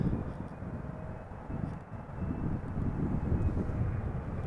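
An Air Canada Boeing 777-300ER, sixteen years old, arrives at Amsterdam Schiphol on a crosswindy day, its steady broadband jet roar rising slightly as it nears, with gusty wind noise over the microphone.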